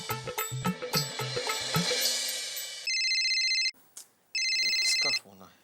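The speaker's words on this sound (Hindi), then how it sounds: "इसका फोन है" A telephone rings in a Hindi comedy household scene, with repeated electronic ring bursts following some clattering and voices, then a short pause before the ringing resumes loudly and close.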